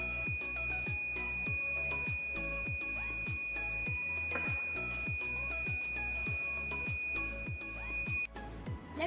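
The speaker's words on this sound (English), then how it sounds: "When a gas leak is detected, it triggers alarm to alert people." A smart home gas leak alarm sounds continuously, with steady high electronic tones over a repeating pulsed beeping pattern that keeps going without any talk.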